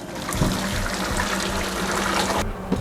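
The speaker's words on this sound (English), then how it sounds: "of course, get the water off the potatoes." Hot water drains off boiled potatoes in a steady splashing trickle that holds close and fairly loud, with a few small clinks near the start and no talking.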